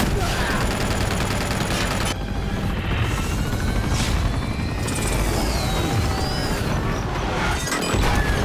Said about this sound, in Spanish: ¡Voy a derribar un helicóptero!